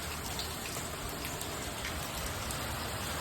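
Steady rain falls heavily, a dense continuous patter of drops on surfaces with no voices.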